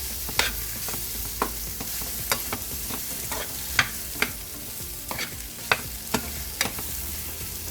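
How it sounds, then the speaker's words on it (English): Masala being stirred and mixed in a pan while cooking, a spoon scraping in regular strokes over a steady gentle sizzle, close up with no talking. "mix it nicely with the masala"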